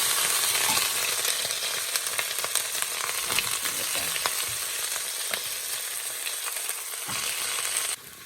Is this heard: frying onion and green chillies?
yes